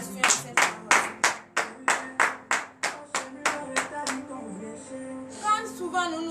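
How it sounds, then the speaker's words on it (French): A church congregation claps in praise during a Saturday morning prayer service in Benin, about a dozen sharp, evenly paced claps ringing out loud and close before fading into softer scattered clapping. "Frères et sœurs en Christ, donnez de vives acclamations à cette parole."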